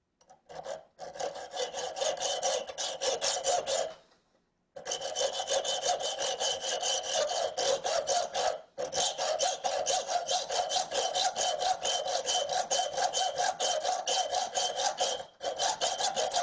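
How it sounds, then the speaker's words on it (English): A hand saw cutting steel bolts shorter for a Honda Rebel 250 motorcycle, with fast, rhythmic rasping strokes that continue steadily and break off for a couple of short pauses. "So we're just going to cut these a little bit shorter"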